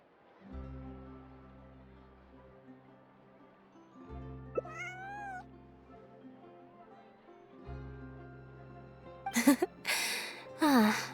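A cat in a video game gives a couple of short, rising meows amid a soft sustained musical drone, followed by a few sharper, louder cries and breaths near the end.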